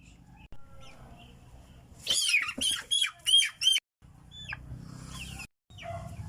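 A chicken lets out a burst of loud, harsh squawks in quick succession, followed by a few fainter calls against a quiet outdoor background.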